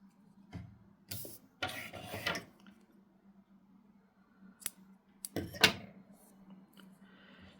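Scissors snip through crochet yarn while small earrings are being made, producing a few sharp, close cuts separated by quiet pauses, with soft handling noises in between.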